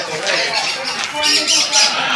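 Harsh, shrill squawks of a parrot at a zoo, several in quick succession, close and loud.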